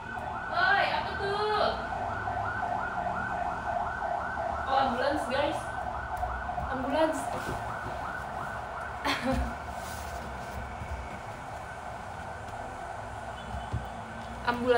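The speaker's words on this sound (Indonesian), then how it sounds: "Ambulans." An ambulance siren near a hospital wails in rising and falling sweeps through the first half, fading as it moves off beneath street noise and a few voices.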